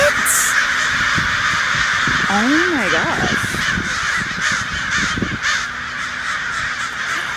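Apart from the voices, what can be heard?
crows cawing loudly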